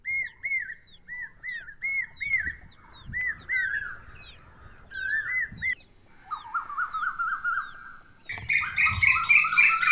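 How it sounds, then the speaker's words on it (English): Repeated rising calls of cuckoos and a koel ring out in a series in the Aravalli forest, joined by other chirping birds in the background. "calling cuckoos and koel"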